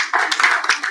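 Audience applause for a round-table speaker at the CEDIF inauguration: a brief, steady patter of many hands clapping, close and fairly loud, lasting about a second.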